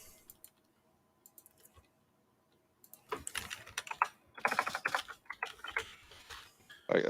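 Typing on a computer keyboard during a podcast recording, quiet at first and then a steady run of close, rapid clicking keystrokes that grows busier toward the end.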